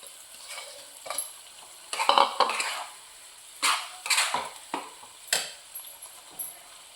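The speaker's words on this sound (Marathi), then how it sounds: "ह्याच्यामध्ये ह्या भेंड्या अशा ओतून द्यायच्या." Okra tipped into a hot spiced pan sizzles and clatters in a series of loud, uneven bursts as pieces hit the metal and get stirred, with short quieter gaps between, and no one speaking.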